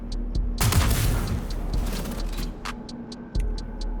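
Atzkav sniper rifle firing a single shot in Star Citizen: a loud, sharp blast followed by a long rumbling tail that fades, with faint, regular ticking clicks in the background.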